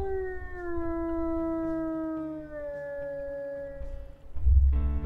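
In WolfQuest, a wolf lets out one long, clear howl that slowly falls in pitch and fades, followed by a sudden low thump.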